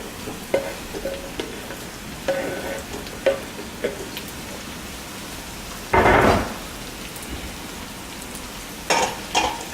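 Cut golden potatoes hit a hot pan and sizzle steadily, with a louder burst of frying about midway and another near the end, close and alone.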